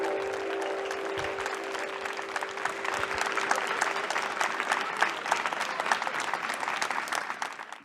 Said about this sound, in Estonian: Suur aplaus bändile, palun.